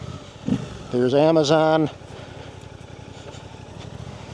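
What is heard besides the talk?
Suzuki GSX-8R motorcycle engine with stock exhaust and ECU flash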